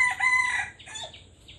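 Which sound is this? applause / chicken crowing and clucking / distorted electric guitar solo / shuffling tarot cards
chicken crowing and clucking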